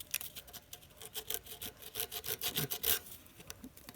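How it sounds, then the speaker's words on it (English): Sandpaper scrubbed by hand over a lawn mower part to clean it, a close series of rhythmic raspy rubbing strokes, about ten quick bursts with brief pauses between. "Sandpaper right here and just give it a good cleaning."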